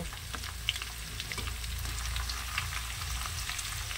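Chopped tomatoes frying in a pan for a bachelor-style chicken curry at home, a steady close sizzle with soft stirring scrapes running throughout, no voices.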